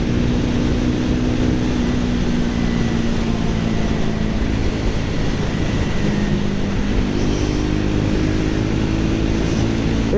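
A Triumph Speed 400 motorcycle's single-cylinder engine held at full throttle on city roads, a loud steady drone with wind rush and a slight pitch shift near the end.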